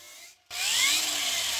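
A cordless Parkside Performance PWSAP 20 Li-C3 angle grinder whirs briefly, cuts out for a moment, then restarts into a loud, steady high-pitched grinding whine that continues to the end.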